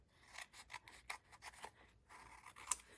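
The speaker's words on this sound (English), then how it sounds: "This I need to trim just a tiny bit here." Scissors trimming paper for a December Daily scrapbook page, a string of quiet, quick snipping and rasping cuts in an even rhythm, close and faint with no talk.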